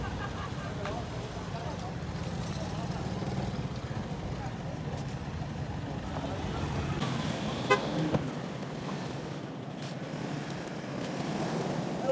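Car engines and road traffic rumble steadily with a few short horn toots as a group sets off in vehicles on a road trip through Gojra and Samundri in Pakistan, voices murmuring faintly in the background.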